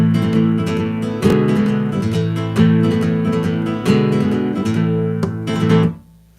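Spanish guitar plays rasgueado strumming in a Sevillanas rhythm, with loud rhythmic chord bursts and sharp accented strokes up close, ending with the final chord cut off.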